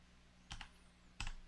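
Two short bursts of typing on a computer keyboard, quick clicks of keys close and fairly quiet, separated by a brief pause, as a command is entered into a Linux terminal.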